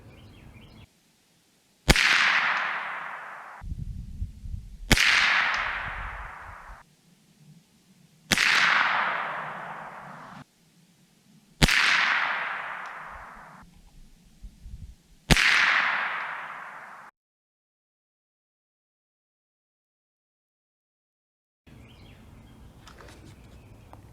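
Five sharp .22 LR rifle shots fired with Blazer ammunition, spaced about three seconds apart, each a loud crack followed by a short decaying ring, with quiet outdoor ambience between and after.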